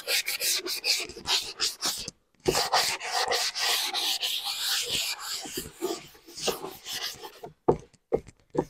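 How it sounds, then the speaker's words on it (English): Sandpaper works the edges of a wooden wall clock from a kit in short, close, scratchy rubbing strokes, with one brief pause and a few sharper scrapes near the end. "I'm just going to do a little bit of sanding around the edges."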